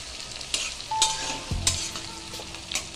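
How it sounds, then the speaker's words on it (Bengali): Chopped tomato stirred and fried with mutton in a pan for a Bengali mutton curry, with close spoon scrapes and knocks against the pan over a steady soft sizzle, and a few sharper clatters near the end. "দিয়ে আমি এটা আবার একটু নেড়ে চেড়ে ভেজে নেব"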